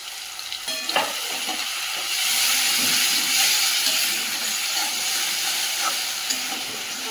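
Tomato paste sizzles and hisses steadily in hot oil with fried ginger and garlic, with a few clinks of stirring near the start, loud and close without talk.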